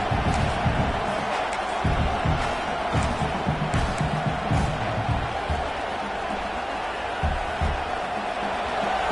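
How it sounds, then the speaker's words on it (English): A loud football stadium crowd at a USC at Clemson game roars continuously, with surges of cheering and shouting that fill the whole stretch and a commentator's voice faintly under it. "Listen to this crowd just shaking the girders of this place, trying to help their defense."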